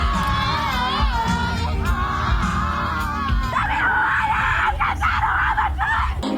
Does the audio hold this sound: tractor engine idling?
no